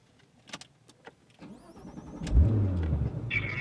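A Porsche 991 GT3 RS turns over on the ignition key and starts, its engine catching with a loud burst and then settling into a steady idle close by, after a few faint clicks and a whirring chime.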